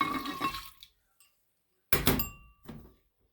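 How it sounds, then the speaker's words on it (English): Water poured into a glass jar of day-six sourdough starter: a short splash and trickle, then a brief gap, then a louder burst of pouring with glassy clinks that fades into a smaller splash, close up with no talk. "I'm going to pour my water in."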